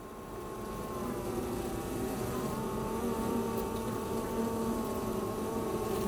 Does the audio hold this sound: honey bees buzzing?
yes